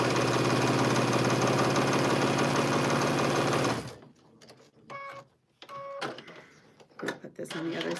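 A sewing machine runs steadily, stitching quilted fabric placemats made from scraps, a fast, close mechanical whir that stops abruptly partway through, followed by talking and a few light clicks and handling noises.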